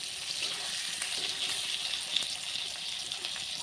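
Potato pieces fry in hot oil with fried spices for a local rooster meat curry, giving a steady, close, hissing sizzle throughout with faint stirring and no talk.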